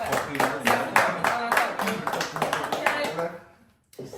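A handful of people clap for guests at a casual French interview, sparse uneven claps close by over talk, then a sudden silence before speech resumes.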